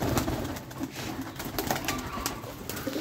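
Pigeons inside a loft coo steadily and fairly loudly at close range, with layered overlapping calls, fluttery rustles and scattered clicks running through the whole stretch.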